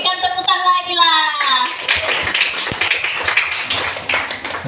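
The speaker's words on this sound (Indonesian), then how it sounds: "Berikan tepuk tangan lagi lah." An audience at a church Christmas celebration breaks into a round of clapping after a voice briefly carries over the crowd. The applause is a moderately loud, steady patter of many hands, with scattered voices underneath.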